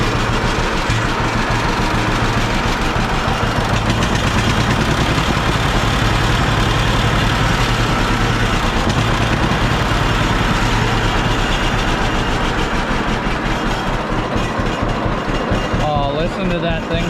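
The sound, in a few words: engine idling after choked restart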